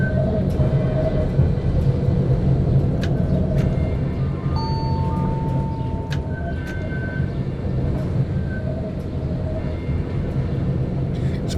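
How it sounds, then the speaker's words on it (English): A Type D tram in City Transport Simulator rolls along steadily on a cold, dark run, a continuous loud rumble with scattered clicks and brief high tones from the rails and cab. "Very nice, smooth drive, this tram."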